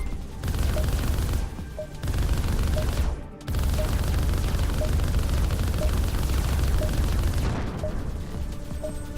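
A Vulcan cannon fires in the space shooter game Arc Savior, a dense continuous roar of rapid shots with brief breaks, loud and close, under a faint regular beeping tone.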